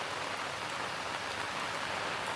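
Monsoon rain pours down in Malenadu, a dense, even hiss of countless drops hitting surfaces, unbroken and fairly faint, with no voices.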